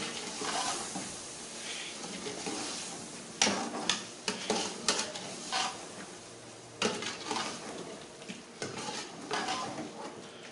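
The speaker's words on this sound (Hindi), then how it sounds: "अच्छे तरीके से चिकन को हम भून लेंगे" Chicken frying with garlic paste for chicken pulao, stirred in a pan: steady sizzle throughout with repeated sharp scrapes and clinks of a spoon against the metal pan, close and moderately loud, no talking.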